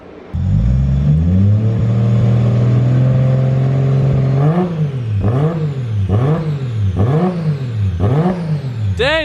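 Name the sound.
turbocharged car engine revving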